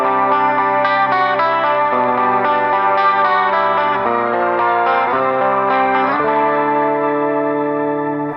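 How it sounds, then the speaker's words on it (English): A layered 12-string guitar plays ringing chords through a rotary effect and heavy reverb, sustained and shimmering for several seconds, loud and alone without any voice. "layer a 12-string guitar with a rotary effect on one side of it and add a lot of reverb to that one too"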